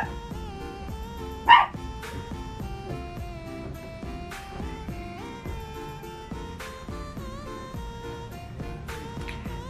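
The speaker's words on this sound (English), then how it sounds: "I'm so sorry if you hear Louis barking in the background." A dog barks once, brief and somewhat distant, beneath steady music playing throughout.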